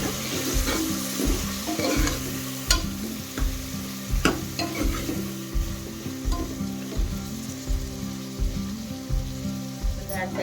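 Urad dal palya with turmeric sizzles in an oily pan while a spoon stirs in a steady rhythm, scraping clicks repeating about every half second over a constant frying hiss.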